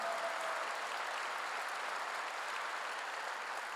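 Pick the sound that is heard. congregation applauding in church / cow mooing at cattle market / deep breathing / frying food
congregation applauding in church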